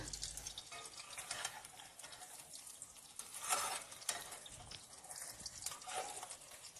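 Beaten egg omelette frying in oil, a faint crackling sizzle with bursts of spattering and soft scraping, close and uneven, with no talk.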